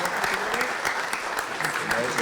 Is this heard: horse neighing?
no